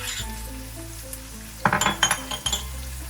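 Tofu with kaffir lime leaves, lemongrass and red chillies sizzles steadily in a pan for a Tom yum sauce, with a few sharp clinks of a utensil stirring against the pan partway through.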